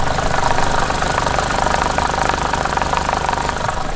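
A turbocharged 4G15 car engine runs steadily at idle with an uneven, knocking misfire, a close, continuous rough rumble heard alone with no talk.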